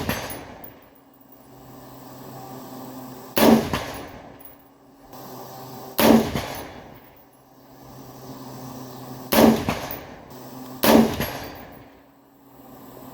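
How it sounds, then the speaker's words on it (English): An old AR-pattern rifle from around 1985 fires four separate shots at a steel target 100 yards away, each a sharp loud crack with a ringing tail, spaced a few seconds apart with quiet outdoor background between them. "Let's see if I can hit steel out at 100 yards from the sitting position."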